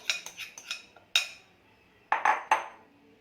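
A spoon mixes grated bottle gourd into batter for Gujarati handvo in a bowl, giving a few sharp clinks and scrapes against the bowl in short bursts, then pauses, with no talking.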